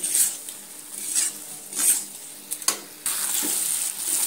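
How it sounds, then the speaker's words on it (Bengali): Potatoes frying in a spice mixture and being stirred gently in a pan, with intermittent scraping and clatter of a utensil against the metal over a soft sizzle, fairly close. "এইভাবে হালকা হাতে এইভাবে মিনিট 2 সময় নিয়ে আলুগুলো ভেজে নিতে হবে"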